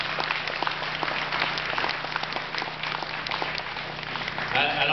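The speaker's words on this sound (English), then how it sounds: "A hand of applause to everybody." Wedding guests applaud together at a reception, a steady, dense wash of clapping that holds at an even level throughout.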